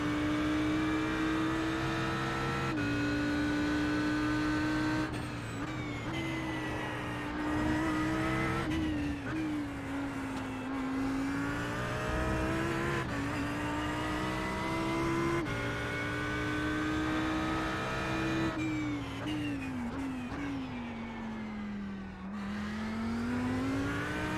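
Racing cars from a GT3 league at Suzuka, including an Audi R8 and a BMW, roar at steady high revs in a video game. Gearshifts break the engine note and tires squeal now and then, with the cars close and loud throughout.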